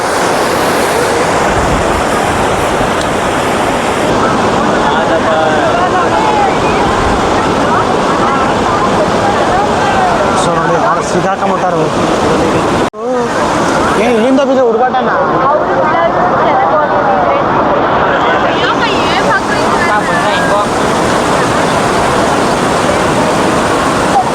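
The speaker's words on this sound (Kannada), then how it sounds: "ನೋಡಿಲಿ ಅಪ್ಪ ಫೋರ್ಸ್ ಬಂಡೆ ಅದು ಎಷ್ಟು ಫೋರ್ಸ್ ಆಗಿರ್ತೈತೆ ನೋಡಿ ನೀರು" Full KRS dam releasing water, a loud continuous forceful rush and roar of torrents close by, broadband and steady throughout, with people talking over it.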